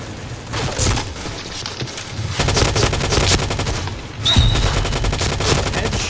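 Rapid bursts of automatic gunfire from a Scar L rifle at close range in the game Point Blank rattle loudly in long volleys with brief pauses, firing continuously.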